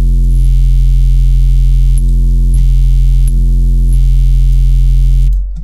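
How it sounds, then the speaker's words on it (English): An 808 bass in the Serum synthesizer with a phaser added, a loud sustained low hum with rich buzzing harmonics and faint periodic clicks, cutting off near the end. "I think before the compressor, I actually am going to add a phaser, turn the rate, the depth, and the frequency all the way down"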